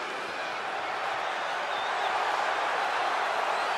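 A capacity arena crowd at WWE SummerSlam 2021 roaring steadily, a dense, loud wash of cheering and applause that swells slightly toward the end.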